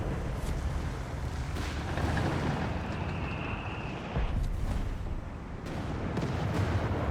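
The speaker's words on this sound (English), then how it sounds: "Stielhandgranate being lobbed. Massive hit there of incendiaries." Grenade lobs and a massive incendiary strike in the WWII strategy game Company of Heroes 3, heard as a dense, continuous wall of rumbling blasts and crackling fire with sharper booms punctuating it throughout.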